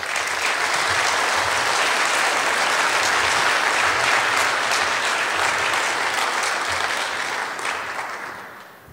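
An audience applauds steadily for award recipients at an awards ceremony, dense sustained clapping that fills the room and fades out near the end.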